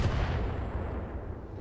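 Missiles launched by a Locust mech in the BattleTech video game, a dense rumbling barrage of booming impacts that fills the short stretch at steady loudness and then slowly eases off.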